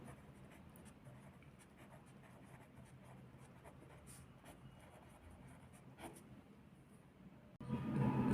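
A pen scratches across paper while a maths exercise is written out, soft quick strokes heard close but faint, with no talking and a louder rustle near the end.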